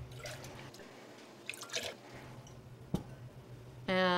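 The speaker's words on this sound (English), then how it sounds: "Dump out the hot water." Hot water being dumped out of canning jars while preparing to can crushed tomatoes, with scattered drips and splashes, a brief sharp clink, and a louder pour of running water near the end.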